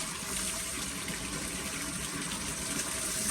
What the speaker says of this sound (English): and this pump's really pumping